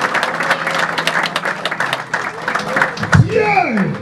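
A church congregation at a Saturday service applauds, with scattered clapping under a voice speaking over it and a rising vocal exclamation near the end.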